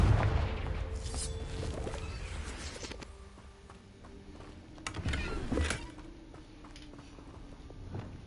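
Confringo fire-blast spell cast in Hogwarts Legacy, short bursting blasts and crackles over a quiet background, with the strongest burst coming after a lull.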